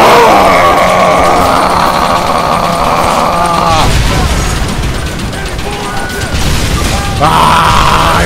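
Heavy explosions boom and crash in the Red Dead Redemption video game during a gunfight, loud and continuous, with roaring blasts and rapid gunfire layered over voice-like game sounds.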